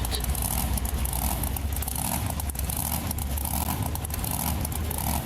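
Engine of a Power Wheels Bigfoot monster truck in the BeamNG Drive racing game, a steady loud motor drone that runs without break at a racing event.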